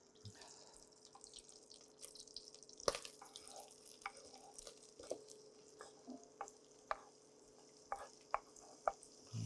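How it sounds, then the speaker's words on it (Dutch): Chopped red onion is stirred in a pan, with soft scraping strokes and light clicks over a faint sizzle, fairly quiet and close. "Even roeren."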